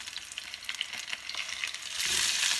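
A parmesan-crusted chicken breast fries in a pan with a bright, crackling sizzle that swells louder toward the end after being flipped with a spatula.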